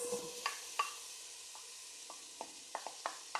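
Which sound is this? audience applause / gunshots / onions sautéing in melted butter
onions sautéing in melted butter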